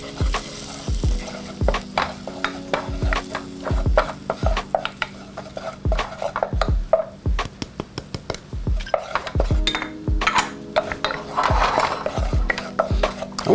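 Flour being stirred into melted butter in a pot to start a mornay sauce: steady scraping strokes of a utensil against the pot, repeated in a quick rhythm over a soft sizzle, close and fairly loud with no talk.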